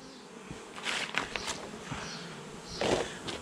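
Honey bees buzz close by among loose beeswax, with uneven, fluttering drones that rise and fall, plus light rustling and tapping.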